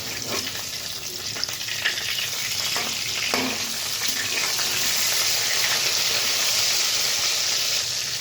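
Katla fish pieces frying in oil as they are turned one by one, a steady close crackling sizzle with occasional soft knocks and scrapes from turning.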